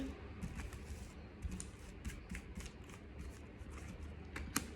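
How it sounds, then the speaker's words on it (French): Tarot cards being shuffled and drawn, producing quiet, quick papery riffles and light taps that run on and off in a soft, steady pattern with no voices. "Allez, on va prendre 5 cartes."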